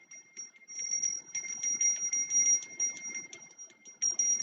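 Small handheld bell rung rapidly in a quiet room, a fast run of bright metallic dings with a steady ringing tone, fairly close and alone.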